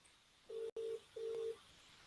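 A ringback tone plays over a phone call to an Irish number, heard as a steady hum. It comes in two short bursts with a brief break between them, quiet and alone.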